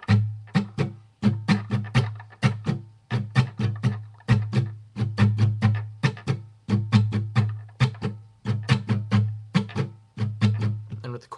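An acoustic guitar strums the chords of a song at full speed in a quick down-down-up-up-down-up pattern, with dense, regular rhythmic strokes and a steady low chord tone throughout, heard alone.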